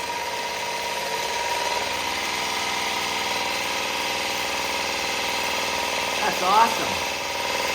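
A motor-driven gear pump on a homemade grouting pump runs with a steady mechanical drone, rattling and whining continuously at moderate volume, while a person briefly speaks near the end.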